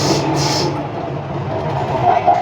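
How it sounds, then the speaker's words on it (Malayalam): A Chennai metro train rumbles through the station in a loud, close, steady drone with faint mechanical whirring above it. "അങ്ങനെ നമ്മുടെ മെട്രോ വന്നിട്ടുണ്ട്"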